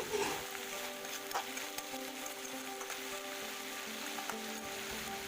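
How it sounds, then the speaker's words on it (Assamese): Turkey berries in a pan with a splash of water over a high gas flame give a faint, even hiss and sizzle that continues throughout, with no talk. "ইয়াতে এতিয়া সিজিবৰ কাৰণে অকণমান পানী দিছো"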